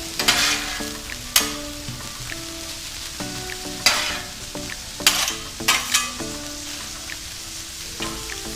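Vegetables frying in a pan for egg roll in a bowl, with a steady soft sizzle and occasional louder stirring scrapes and clinks, close and with no talk.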